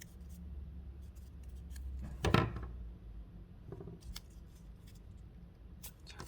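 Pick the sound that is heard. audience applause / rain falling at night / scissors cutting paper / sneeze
scissors cutting paper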